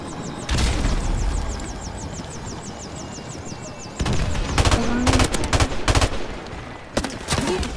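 M4 rifle fire in Modern Warfare Remastered: several rapid automatic bursts and single shots, close and loud over in-game battle noise, with a steady rattle of repeated shots later on.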